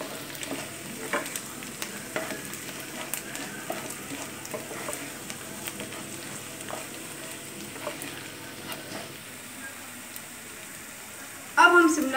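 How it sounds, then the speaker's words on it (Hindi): Onions fry in a pan for a chili potato dish, a steady soft sizzle running throughout with occasional stirring scrapes, and a louder clatter near the end. "हम प्याज को गोल्डन ब्राउन होने तक फ्राई करते रहेंगे।"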